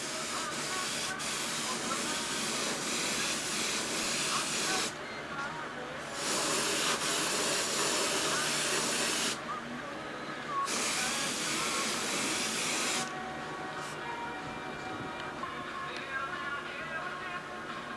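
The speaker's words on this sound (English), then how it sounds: "Just give an extra coat of clear to the canopy" Clear coat sprays onto a model aircraft canopy in three long steady hissing bursts separated by brief pauses, close and even.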